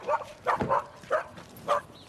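Dogs being chased let out about five short, sharp barks and yips in an uneven rhythm, fairly close by.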